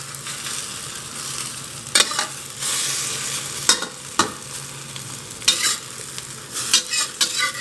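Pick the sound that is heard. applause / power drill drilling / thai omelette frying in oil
thai omelette frying in oil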